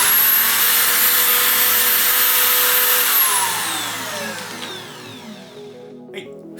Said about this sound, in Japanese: ではまずジグの方に下穴を開けます。